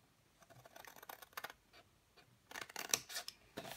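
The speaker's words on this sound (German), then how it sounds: "Als nächstes brauchen wir Schere. Wir schneiden uns hier das kleine Rechteck weg" Scissors cut a small rectangle out of paper or card, giving a series of quiet crisp snips and rustles, sparse at first and then denser and louder toward the end, with nobody talking.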